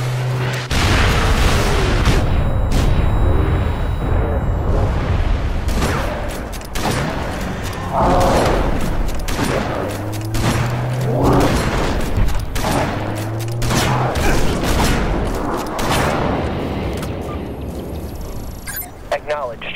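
Artillery barrage called in during the video game Halo Reach, a dense fusillade of heavy booms and blasts that rolls on continuously and loudly, with radio voice chatter over it.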